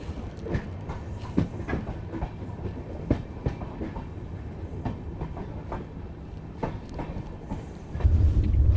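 A train rolls through the Thar Desert on the Jodhpur–Jaisalmer line, wheels clicking in a steady clickety-clack over a constant low rumble, growing louder and heavier near the end.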